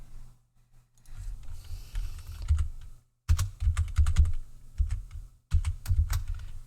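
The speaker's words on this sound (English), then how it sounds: "I'm actually typing it in" Keys clatter on a computer keyboard in quick bursts of typing, close and fairly quiet, with two short pauses breaking the runs of taps.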